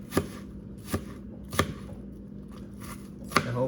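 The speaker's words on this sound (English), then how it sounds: "So we're gonna do some chopping." Knife chopping onions on a board, a handful of sharp irregular taps spaced apart against quiet kitchen background, close and fairly crisp.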